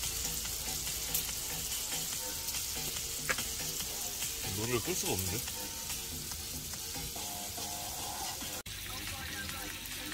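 Steady loud sizzling of meat frying in a pan while camping, crackling constantly, with a few voices talking briefly over it.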